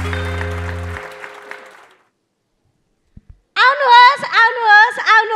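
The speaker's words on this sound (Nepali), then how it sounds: "तालीको साथमा स्वागत गरौँ सुती सुती जागिर खानेहरूलाई" An audience at a Nepali comedy show applauds under a fading burst of music. The clapping dies into silence, and then a voice starts speaking.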